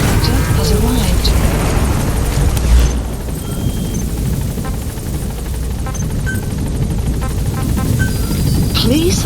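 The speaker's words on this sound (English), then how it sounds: "Support helicopter has arrived." Support helicopter arriving in Metal Gear Solid V: The Phantom Pain, a steady rotor drone and rumble filling the scene throughout, with game sounds and brief voice lines over it.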